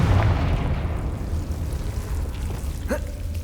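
Confringo blasting spell exploding in Hogwarts Legacy, a sustained loud rumbling boom with a brief sharp pop near the end.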